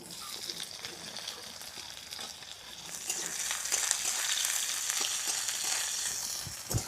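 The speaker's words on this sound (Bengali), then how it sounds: "পেঁয়াজটা ভাজা হচ্ছে," Chopped raw onion frying in mustard oil with dried red chillies and nigella seeds, a close, continuous crackling sizzle that swells midway, with occasional stirring clicks and no talk.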